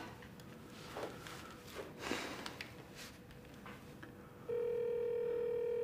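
Telephone call going unanswered: faint handset clicks and rustling, then a steady electronic tone starts partway through and holds unbroken to the end.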